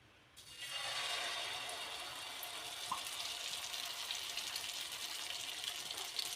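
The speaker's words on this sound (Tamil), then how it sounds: "இப்போ நம்ம ஆம்லேட் போட்டுக்கலாம்." Egg omelette batter with mixed vegetables such as potato and carrot hits a hot oiled dosa pan and breaks into a loud, steady sizzle that holds evenly for several seconds.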